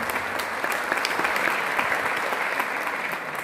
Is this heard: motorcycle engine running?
no